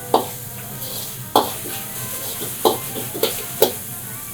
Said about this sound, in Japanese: 炒まってるっていうブジュブジュ言うてる音がしてきたら